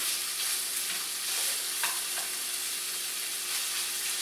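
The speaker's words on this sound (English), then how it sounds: "when you're cooking ground beef, just kind of break it up" Ground beef sizzles in a pan with a steady, bright hiss as a utensil breaks it up and stirs it, giving a few soft scraping knocks under the continuous frying noise.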